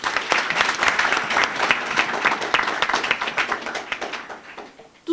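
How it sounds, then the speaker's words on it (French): Conference audience at a Guinean ministerial speech claps for the moderators, session chairs and hosts: full, lively applause from many hands that gradually thins and fades, ending with a brief sharp sound. "Je voudrais également que vous applaudissiez les modérateurs, les présidents et hôtes de session, s'il vous plaît."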